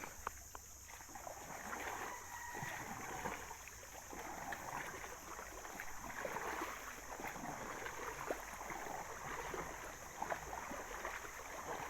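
A dangerous river near San Vicente flows past a small paddled boat, a steady rushing and trickling wash of water with faint knocks, heard alone without talk.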